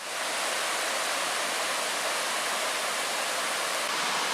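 Track Falls, a waterfall in the Porcupine Mountains of Michigan, roars as a steady, even rush of water, close and unbroken, with no voices.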